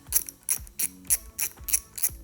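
A ratchet loosens a 10mm nut on a 2021+ Yamaha MT-07 motorcycle, giving seven distinct clicking bursts in a steady back-and-forth rhythm, close and fairly loud with no talking.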